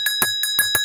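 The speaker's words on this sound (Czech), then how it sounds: "A tady tenhle zvoneček, on nám od té doby teda každý rok zvoní u nás Ježíškovi." Small Christmas bell ringing in quick tinkles, about five bright metallic strikes in under a second, close and clear.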